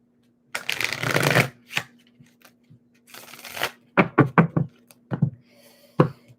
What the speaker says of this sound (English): Let me get one more shuffle here.